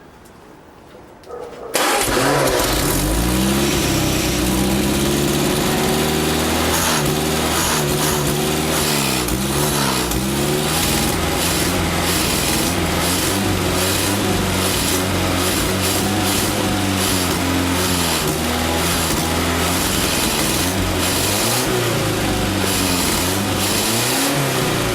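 A 1936 Hillman Minx classic car engine cranks and catches after a short quiet start, then runs loud and steady with repeated revs rising and falling, close by and with no talking.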